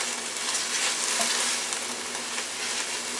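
Onions and peppers frying in a pan, a steady, even sizzle with soft crackle throughout, close and moderately quiet, no voices.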